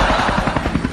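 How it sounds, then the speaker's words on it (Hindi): A comedy helicopter sound effect gives a loud, quick rhythmic chopping of rotor blades, a short burst of rapid thumps with no speech. "मुझे हेलीकॉप्टर उड़ाना नहीं आता"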